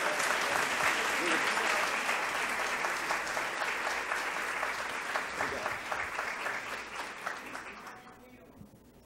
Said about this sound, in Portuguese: Vamos aplaudir esse jovem?